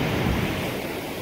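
Ocean surf at high tide washes up beneath a beach house on the shore at Rodanthe in the Outer Banks, a steady, broad rush of breaking water with wind, loud and continuous, with no talking.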